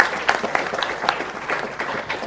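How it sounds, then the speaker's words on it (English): A single person claps at the AGDQ 2014 speedrun marathon during a Metroid Prime run: a series of sharp, irregular hand claps over a steady murmur of crowd and room noise. "if you're listening to the Curry Master right there clapping"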